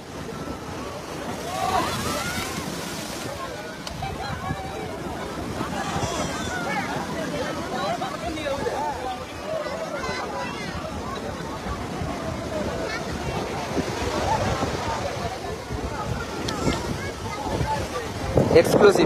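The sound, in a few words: big sea waves crashing at Old Digha beach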